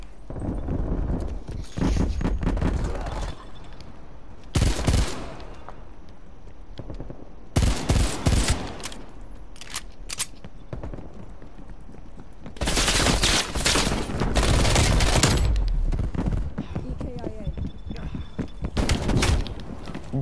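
Shooter video game gunshots: repeated loud bursts of rapid fire and single cracks, close and dense, with quieter stretches and some talking in between.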